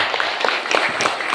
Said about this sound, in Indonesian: Jadi tepuk tangan untuk Lubuk Kakap.